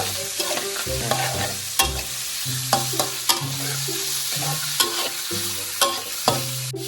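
Pork stir-fried in a pan over medium heat, a continuous sizzle broken by rhythmic scraping and tossing strokes of a spatula with occasional metallic taps, close and steady with no talking.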